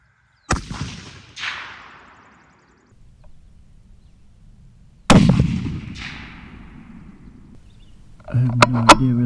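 Two loud, sharp rifle shots, each fired at a penny 200 yards away, crack several seconds apart and roll into a long outdoor echo; some faint rustling follows at the end.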